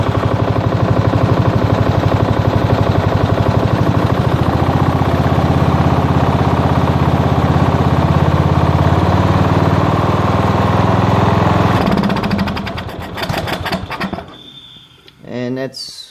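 Tractor diesel engine idling with a rapid, rattling, gunfire-like chatter that climbs in pace toward half throttle, runs loud and close for about twelve seconds, then drops off and sputters unevenly.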